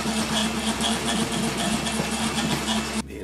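A blender runs steadily with a whirring hum and rhythmic pulsing as it grinds cornstarch, then cuts off abruptly near the end.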